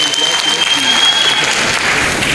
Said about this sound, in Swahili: Situmpigie makofi pia.